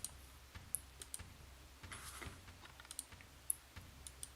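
Computer keyboard keys click and tap in quick irregular bursts as a player sets up for a Hellish Quart tournament match, faint and close with no talk.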